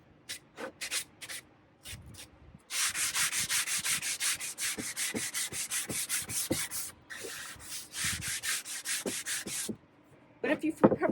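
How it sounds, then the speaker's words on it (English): Wood is hand-sanded with a sanding block in bursts of quick back-and-forth rubbing strokes, close and fairly loud, with short pauses and a longer steady run in the middle. "I think I'm going to try with the sanding block, because it doesn't seem like the wood is too rough."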